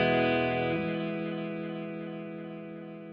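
Clean guitar through a Pro Guitar Shop Blood Sugar pedal set unchorused, a single struck chord ringing out near and clear, then slowly decaying over a few seconds with no voices.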